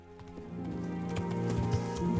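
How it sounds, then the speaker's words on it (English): Horse hooves clip-clopping along a path in the medieval video game Kingdom Come: Deliverance, a steady fairly close stepping rhythm over a continuous low ambient bed. "Horses are just so therapeutic."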